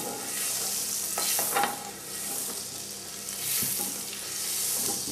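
Butter and oil sizzle in a hot pan before pork loin goes in, a continuous close hiss that swells and eases with a few faint scrapes and no talking.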